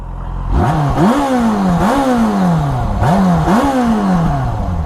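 A 2005 Yamaha FZ6 motorcycle engine, warmed up, revs up three times in quick succession to around 5,000–6,000 rpm, each throttle blip rising in pitch then falling back, loud and close.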